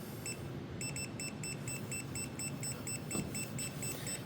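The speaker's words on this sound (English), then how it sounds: "now it's gonna start beeping to tell me that it's out of range of being level" A 16-line self-leveling laser level gives its out-of-level warning: a rapid series of high electronic beeps in a steady rhythm over a low background rumble, clear and fairly close.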